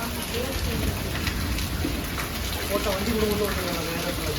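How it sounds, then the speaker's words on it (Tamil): Heavy rain pouring down outdoors, a dense, steady hiss of drops on surfaces filling the whole clip at constant loudness, with faint voices mixed into the background. "இன்னைக்கு தாம்மா இவ்வளோ பெரிய மழையை பார்க்குறோம் நம்ம இங்கே"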